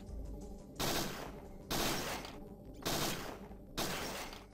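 Gunfire in the PS1 game Parasite Eve 2, heard as four loud, sharp bursts at roughly one-second intervals, each followed by a short fading tail, with no voices.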